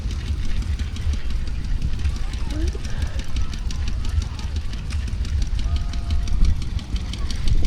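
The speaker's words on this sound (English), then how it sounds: "we see a couple of field marshals, and they're both diesel versions. So it must be a single cylinder 2-stroke diesel." A Field Marshall single-cylinder two-stroke diesel tractor runs at an outdoor steam and craft show, a steady low, rapid thumping beat close by, with someone talking over it.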